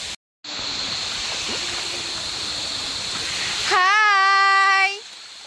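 A strong waterfall at a spring resort roars as a steady, loud broadband rush close by, then a sharp whistling hiss rises over it near the end before fading.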